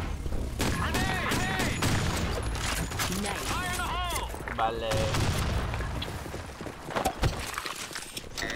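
Shotgun blasts in a video game, several loud cracking shots in irregular bursts mixed with tonal game effects and clattering, a voice talking now and then underneath.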